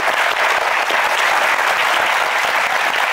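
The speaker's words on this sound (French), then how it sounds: "beaucoup d'applaudissements pour vous" A theater audience at a French live show applauds, the dense, loud, continuous clapping of many hands filling the room and holding steady without voices breaking through.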